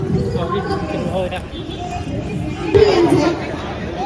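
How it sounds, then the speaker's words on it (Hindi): Crowd chatter at a busy World Bicycle Day gathering, a dense babble of many voices near and far, steady throughout with a brief louder rise toward the end. "इतनी भीड़ है यहाँ, दुनिया भर की भीड़ है"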